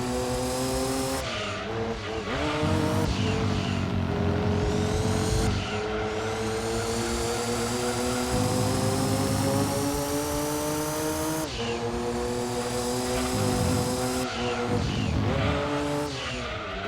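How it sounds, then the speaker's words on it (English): Jaguar XJ220 GT race car in Gran Turismo 2, a mid-engine, rear-drive machine of 541 brake horsepower, revving hard through repeated gear changes, its engine note climbing and dropping in loud sustained pulls, with occasional tire squeal. "11 midfield raceway with Jaguar XJ220 GT race car, middle engine rear drive car with 541 brake horsepower"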